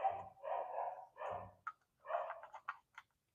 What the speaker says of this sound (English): Sorry, that's my dogs. My dog's going crazy.